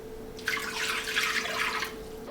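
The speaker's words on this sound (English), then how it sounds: "I'm going to put the 2 cups of water in a pan." Water pours steadily into a pan for jalebi syrup, a continuous hissing splash of about a second and a half, close and moderately loud, with a low hum underneath and no talking.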